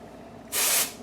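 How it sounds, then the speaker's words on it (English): Dry shampoo spraying from an aerosol can onto hair, a single steady hiss lasting about a third of a second, close and fairly loud against a quiet room. "I'm gonna take some dry shampoo and I'm just gonna spray"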